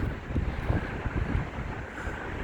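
Wind on the Blackpool seafront buffets the microphone with a steady, loud, gusty roar and low rumble, with no voices over it.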